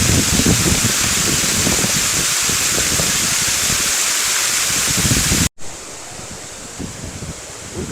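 A mountain waterfall in the Sissu Valley roars as a dense, steady rush of falling water, loud and close, then briefly cuts out and continues somewhat softer.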